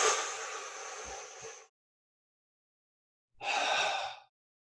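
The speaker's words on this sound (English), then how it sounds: "So it'll be a breath in and then relax." Two deep breaths drawn in through the nose during a breathwork exercise for swimmers, close and airy, separated by a couple of seconds of silence.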